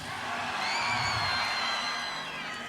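A metal concert crowd at a live show cheers and whoops, with sustained yells rising and falling over a constant roar, fairly distant and steady.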